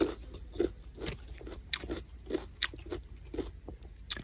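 Someone bites into a crunchy nectarine and chews it, with quiet crisp crunches repeating at an uneven rhythm over about four seconds, close and soft, without speech.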